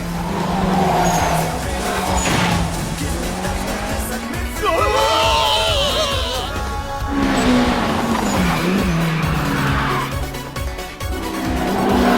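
Tire squeal under hard late braking in the Initial D Battle Stage 2 racing game, with repeated long screeches over a loud, roaring engine as the car slides through corners.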